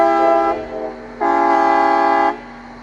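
A Royal Gorge tourist train sounds its horn up close, giving one short blast, a brief dip, then a longer, loud, steady chord that cuts off sharply.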